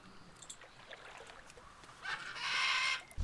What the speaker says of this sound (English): Oh, go away, you stupid bird.